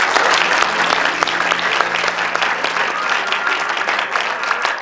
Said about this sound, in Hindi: डीजी साहब के लिए एक दफ़ा फिर तालियां।